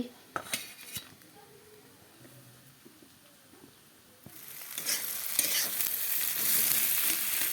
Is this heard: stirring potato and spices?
yes